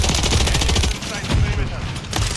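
Rapid automatic gunfire from Call of Duty plays loud and dense throughout, with a brief lull in the middle and a voice partly mixed in.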